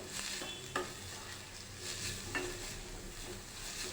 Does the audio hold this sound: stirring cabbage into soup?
yes